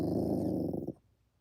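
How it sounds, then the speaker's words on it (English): A pet dog growls low and steadily close by for under a second, a rough throaty rumble that breaks off abruptly into quiet. "Can you guys hear my dog? What are you growling at?"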